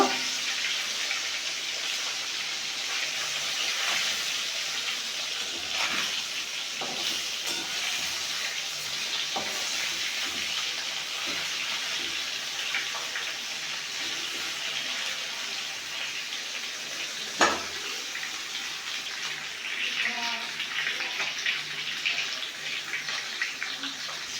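Fish that were very fresh sizzle in hot oil after being turned over in the pan, a steady, dense crackling hiss running close and unbroken, with occasional louder spits and pops and no voices.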